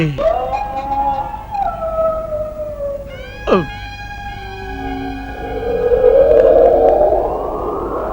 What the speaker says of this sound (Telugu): ఎక్కడో నక్క బిగ్గరగా అరుస్తోంది